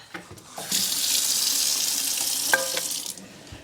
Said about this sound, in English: let's do a rinse